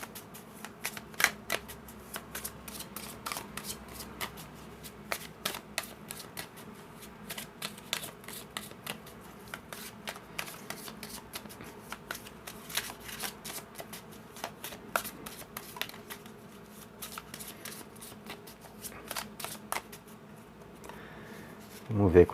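Tarot Book of Shadows cards are shuffled in a steady run of crisp riffles and flicks close by, lasting over twenty seconds with a louder rustle at the end.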